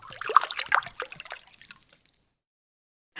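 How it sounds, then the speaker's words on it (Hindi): Water pours and trickles into a pan of chicken shami kabab mixture, splashing for about two seconds before going quiet. "तकरीबन आधा जग और पानी का ऐड करूँगी इसमें।"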